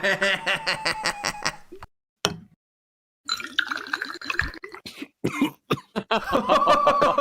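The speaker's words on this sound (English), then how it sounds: "He's coughing." A man coughs hard several times in bursts, mixed with spluttering and laughter from nearby people, with a brief quiet gap in the middle.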